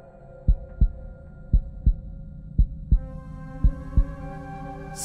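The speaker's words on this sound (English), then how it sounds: "Can you hear her heart beating?" A heartbeat sound effect from the horror video game Devil's Hideout pulses in deep, close double thumps, four lub-dub pairs evenly spaced over a low droning hum, with no talk.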